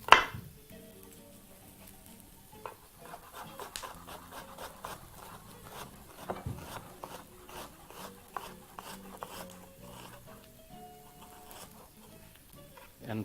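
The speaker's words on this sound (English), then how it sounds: "proceed to start chopping your red onions. So we're going to be chopping that as fine as possible." A knife finely chops red onions on a cutting board, giving quick, light, irregular taps and scraping rubs, soft and close, in a quiet kitchen.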